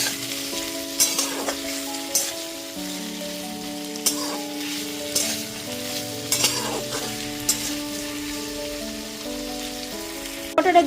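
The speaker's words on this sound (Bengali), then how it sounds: "আদা বাটাটা দিয়েও খুব ভালো মতো মিশিয়ে নিচ্ছি।" Ginger paste and asafoetida being stirred in a frying pan for a drumstick and pumpkin dish, giving steady sizzling with repeated scraping strokes of the spoon, close and fairly loud, no voices.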